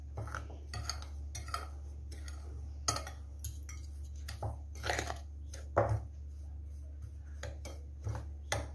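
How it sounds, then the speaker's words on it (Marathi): Spices for a traditional karvanda pickle being stirred and mixed with a spoon in a metal bowl, giving irregular scraping and clinking strokes, fairly close and quiet, with no talk. "पण आपण आधी हे मिक्स करून घेऊया सगळं"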